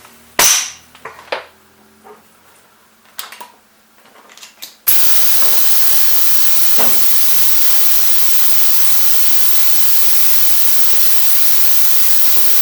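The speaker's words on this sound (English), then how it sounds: "It's going to get loud because the compressor's going to kick in a minute, no doubt." A spray mist system runs with its air compressor kicking in, giving a loud, steady broadband hiss that holds for the last eight seconds after a few clicks and knocks at the start.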